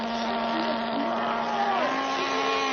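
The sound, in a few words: engine revving out of control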